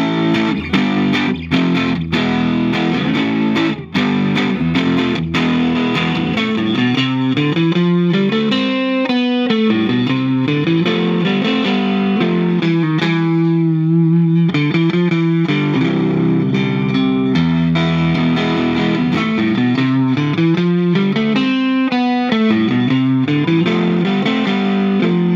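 A 1964 Fender Jaguar in Olympic White plays through its neck pickup alone into a 1964 Fender Deluxe Reverb amp, with sustained chords and picked lines ringing with reverb over about twenty-five seconds, no talking.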